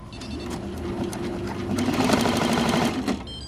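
A multi-needle embroidery machine stitches a hat with metallic 14kt gold thread, running steadily in a fast, even mechanical chatter that builds slightly before stopping, close and clear with no talk.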